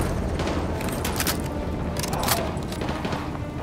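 Frag grenade blasts and rifle fire in a Call of Duty: Modern Warfare 2 battle, a dense continuous roar of gunfire with heavy booming explosions layered throughout.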